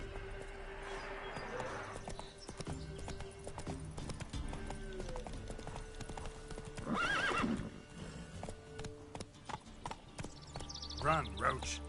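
Galloping hooves of a horse in The Witcher 3 Wild Hunt, a fast clip-clop rhythm running throughout over ambient game sound, with a neigh and a louder burst of movement partway through.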